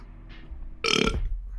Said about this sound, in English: Get my burp out and everything.